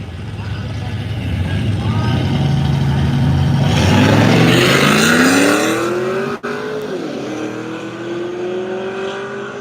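Cars race at a drag event, a Cadillac CTS-V wagon and a Chevy truck among them, with loud engines roaring and rising in pitch as they accelerate past, under speech and crowd noise.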